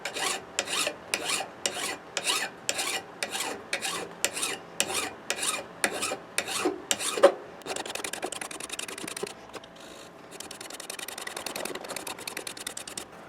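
A round hand file rasps across metal clamped in a small vise, steady rhythmic push strokes about twice per second, close and clear, then looser, scratchier filing toward the end.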